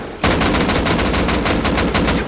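Rapid automatic gunfire in a video game shootout, a loud continuous burst of closely spaced shots with no talking.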